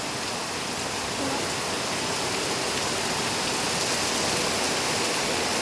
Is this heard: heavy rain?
yes